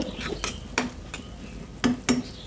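Meat is stirred in a pan as its water cooks off, with a spoon scraping and clinking against the metal several times over a soft, low sizzle.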